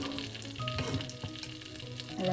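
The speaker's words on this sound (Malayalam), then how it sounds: "ചൂടാകുമ്പോൾ നമുക്ക് സ്പൈസസ് ചേർക്കാം. പട്ട, ഗ്രാമ്പൂ, ഏലക്ക, കുരുമുളക്, തക്കോലം, ബേ ലീവ്സ്, ഇത്രയാണ് ഇത് ചേർക്കുന്നത്." Whole spices including cinnamon, cloves, cardamom, peppercorns, star anise and bay leaves frying in a hot pan for a spinach chicken curry, a close, steady sizzle with a few crackles and stirring scrapes.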